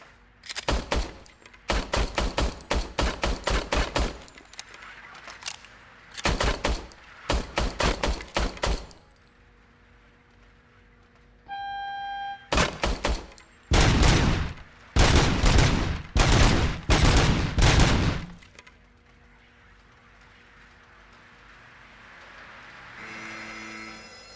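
RoboCop's service weapon fires in rapid bursts in the video game RoboCop: Rogue City, loud clusters of gunshots separated by short pauses, with a few game interface tones between the bursts.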